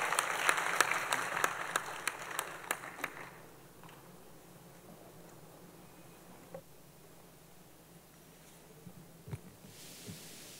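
A brief burst of applause in the Legislative Yuan welcoming Premier Lin Chuan, a dozen or so sharp claps over the first three seconds, then fading into quiet room noise with faint shuffles.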